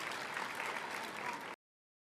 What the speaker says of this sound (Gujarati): જોરદાર તાળીઓ થઈ જશે.